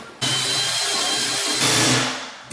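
A power drill with a hole saw cuts straight through a door, a loud, steady whirring grind that starts abruptly, runs continuously, and rises in pitch and harshness near the end before easing off.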